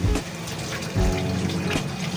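Water is poured into a pot of pork ribs being cooked sweet and spicy, with splashing gushes at the start and again around the middle over a continuous watery rush.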